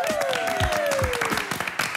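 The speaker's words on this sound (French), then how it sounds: "On applaudit Nicolas." A studio audience claps and applauds for a contestant on a French television game show, a short dense burst of hand claps with a host's voice calling out over it.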